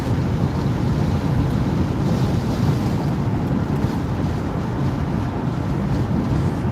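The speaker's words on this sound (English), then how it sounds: "let's try to get rid of some of this wind" Outdoors, wind buffets the microphone in a continuous, loud low roar that barely changes over several seconds.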